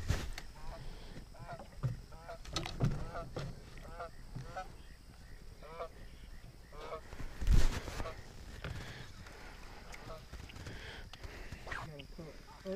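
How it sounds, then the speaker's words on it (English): Geese honk in scattered calls as they come in to land on water near a bass-fishing boat, with splashes and boat knocks mixed in and people talking over much of it. "Look at those geese about to land in here."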